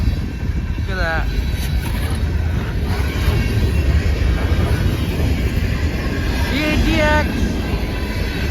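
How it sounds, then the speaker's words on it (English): A CSX freight train with heavy loaded reefer cars rolls past in a snowstorm, a loud continuous low rumble and rattle of wagons close by, with brief squealing wheel tones rising over the steady roar. "Heavy, loaded reefer cars right there."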